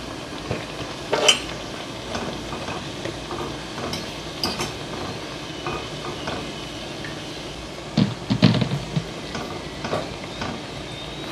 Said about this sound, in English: put them into the pot to fry